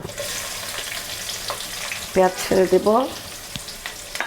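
Onion paste frying in oil for a mutton liver bhuna sizzles steadily at close range, with a brief cluster of squeaky tonal chirps partway through and a few light scrapes.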